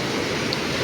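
Fast-flowing floodwater rushes in a dense, loud, unbroken roar of broadband noise, steady and close with no voices.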